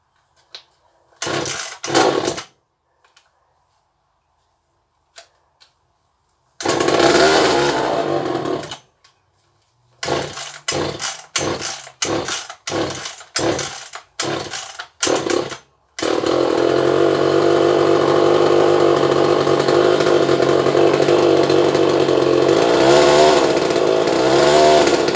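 A chainsaw fired up again after maintenance, with several short pull-start bursts and sputters separated by silence before it catches and runs steadily at a loud, close, continuous drone.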